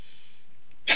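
A single sharp sneeze bursts out loudly at the very end after near silence, preceded by a faint intake of breath.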